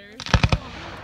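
Fireworks at a high school graduation crack in a quick run of three or four sharp, close reports within half a second, then fade into the background, with voices nearby.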